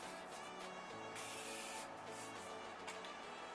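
A Morphe setting spray mists onto a makeup brush in a few close, hissing bursts that sputter and pause, with no talking.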